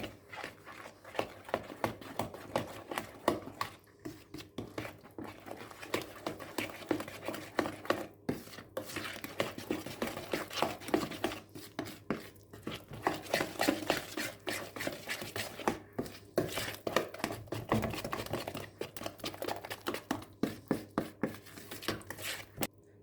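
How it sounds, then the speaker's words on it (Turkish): Cake batter of flour and baking powder being mixed by hand in a bowl, with a steady run of rhythmic stirring and scraping strokes close up, no talking over it. "Ve şöyle bir güzel karıştırıyorum."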